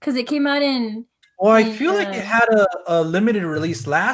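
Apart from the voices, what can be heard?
No everyday noises stand out.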